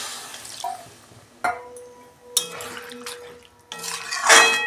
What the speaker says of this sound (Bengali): আমি জল দিচ্ছি, খুব বেশি জল দেবো না।